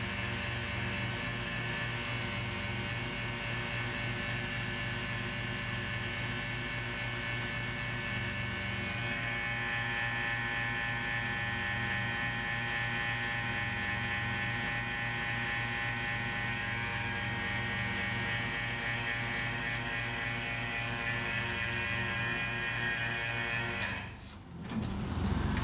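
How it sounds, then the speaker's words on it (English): A loud vacuum pump drones steadily, drawing a vacuum box to test welds for leaks, with a low pulsing hum and buzzy mechanical overtones, running continuously before cutting off near the end. "So I'm gonna turn on the vacuum pump. It's quite loud"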